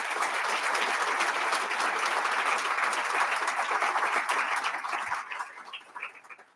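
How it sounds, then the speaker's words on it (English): An audience in a hall applauds public servants during a mayoral budget address, a dense, steady wash of clapping that holds strongly, then thins and fades away over the last second or so. "Please join me in a round of applause for all of the public servants in this room."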